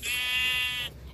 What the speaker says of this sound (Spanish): Pero son ovejas.